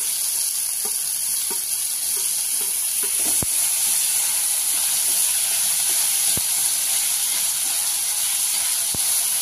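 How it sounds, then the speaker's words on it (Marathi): Tomatoes cook with onions, ginger-garlic paste and oil in a hot pan, a constant close sizzle broken by a few sharp clinks of a spoon stirring, with no talk. "आपल्याला टमाटे चांगले ह्याच्यात शिजवून घ्यायचे आहे।"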